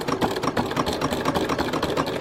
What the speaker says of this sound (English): You'll notice that I'm using the walking foot because it does a more even stitch.